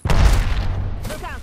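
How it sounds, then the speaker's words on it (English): A grenade detonates in a video game firefight, a loud sudden boom with a rumbling tail that fades over about a second, followed by faint scattered debris. "Look out, grenade!"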